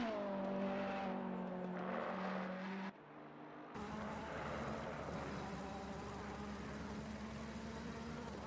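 Ferrari GT3 race car in a racing video game at Barcelona, engine droning loudly and steadily, with rising and falling revs, a brief dip in level, then a continuous busy roar.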